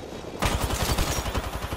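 Rapid bursts of gunfire in an online video game match begin after a brief quiet moment, a fast string of close, punchy shots continuing to the end.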